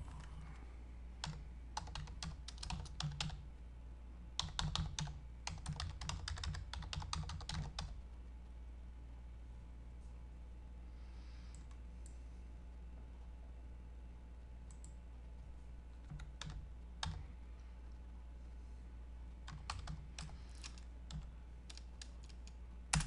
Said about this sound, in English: I'm going to type in the chat window